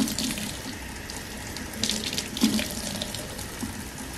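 Tap water runs steadily into a sink while a one-week-old newborn's long hair is washed, a continuous close splashing flow with slight surges and no voices.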